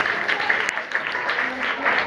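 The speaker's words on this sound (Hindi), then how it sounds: "ताली बजाओ।" Schoolchildren in a secondary-school classroom in Kerakat, Jaunpur clap together in a dense, steady burst of applause lasting a couple of seconds, close by and fairly loud.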